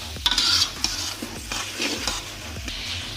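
A spoon stirs chickpea biryani ingredients in a pot on the stove, scraping and clinking in repeated strokes over a low sizzle, close and fairly loud, with no one speaking.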